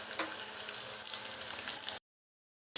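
Garlic and cumin crackle and hiss in hot ghee for a dal tadka, a close, continuous sizzle for about two seconds before cutting to silence, then briefly resuming.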